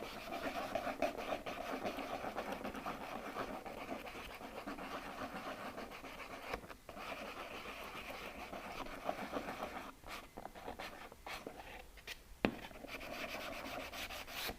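Rasping and rubbing of a file or sandpaper rounding the edges of a Spartan armor piece, a continuous close scratchy texture with short bursts of faster strokes and no one talking.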